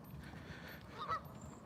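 A single goose honks once, short and moderately faint, against quiet outdoor background noise on a Sunday morning dog walk.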